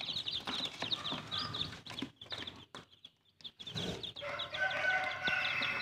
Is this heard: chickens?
yes